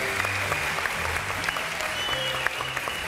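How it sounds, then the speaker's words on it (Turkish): A television studio audience claps loudly and steadily for a few seconds, a dense even wash of applause with no pauses. "Gerçek olan bir şeyi alkışlamayın."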